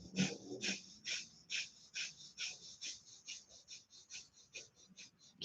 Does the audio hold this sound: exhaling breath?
yes